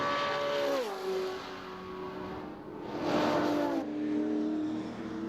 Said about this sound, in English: This is probably one of the best sounding V8 Commodores. Just listen as they come beneath the camera position.